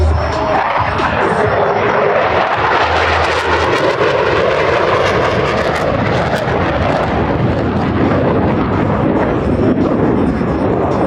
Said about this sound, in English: Watch as both pilots sustain 6 times the force of gravity to cross their aircraft over show center